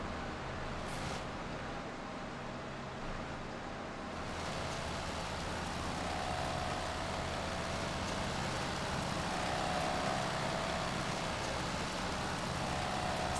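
Machine grinding away at a stubborn tree stump in the Farming Simulator 25 video game, a steady dense mechanical roar running continuously throughout with no breaks.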